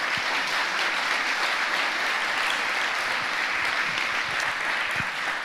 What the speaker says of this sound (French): donc je vais vous proposer de les applaudir.